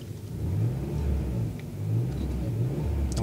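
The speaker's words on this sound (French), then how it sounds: "entendre plutôt le son du moteur d'origine de ma Camry" A Toyota Camry's V8 Hemi engine swap hums and revs with a deep, steady rumble, close by and fairly loud, with no talking.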